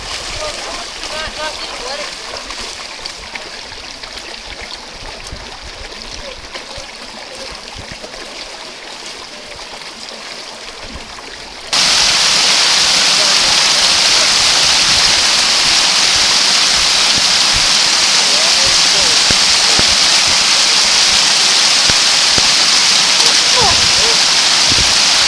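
Rushing water of the Virgin River in The Subway slot canyon, Zion National Park, Utah, a steady broadband roar that jumps much louder partway through as the recorder nears the flow, with faint voices underneath early on.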